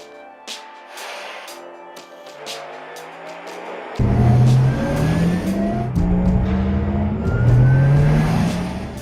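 Porsche Taycan Turbo electric sports car accelerating, a synthetic rising whine that sweeps upward twice over road and tire noise, close and loud, with no talk.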